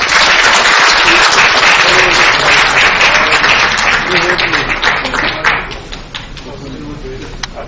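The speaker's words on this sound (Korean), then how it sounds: "김진혁, 한예종 교수를 큰 박수로 맞이해 주시면 대단히 감사하겠습니다" A crowd at a book launch event claps loudly to welcome a professor to the stage, the applause thinning out and fading toward the end, with a voice emerging as it dies down.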